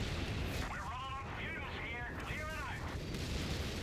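An artillery unit being destroyed in the Company of Heroes 3 video game: heavy booms and explosions rumble through a busy battle soundscape, with a commentator's voice running over them.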